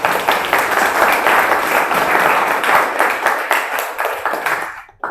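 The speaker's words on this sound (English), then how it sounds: "Big round of applause." Lively applause from a meetup audience at the close of a talk, many hands clapping steadily and fairly close for about five seconds before dying away abruptly.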